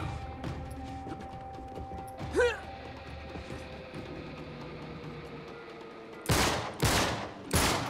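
In the video game Uncharted 3, a steady backdrop of game ambience and clanks is broken by a sharp burst, then three loud, closely spaced gunshots at the end.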